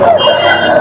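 A fighting-breed chicken at the Hindiginala hen market gives a short, loud, close crow or call lasting under a second.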